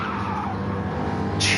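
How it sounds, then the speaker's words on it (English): Race car tires squeal and skid during a live Pep Boys 200 race in the NFRL FES Series, a short, near burst over steady engine noise, with no talk. "you hear the tires, dude"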